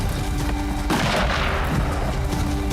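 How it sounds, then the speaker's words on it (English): A sudden loud burst of gunfire cracks out and then rumbles on, with heavy booming echoes carrying across open ground as wardens move in on hunters shooting at an elk decoy. "With the sound of gunfire"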